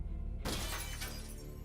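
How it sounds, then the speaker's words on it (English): A glass window shatters after a brick is thrown at it, one sudden loud crash followed by a spray of breaking glass that tinkles away. "I was happy to hear the satisfying sound of shattering glass"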